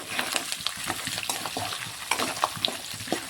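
Curry leaves and roasted gram frying in oil for spicy poha chivda, crackling sizzle with busy scraping and tossing of a spatula, close and lively, no voices.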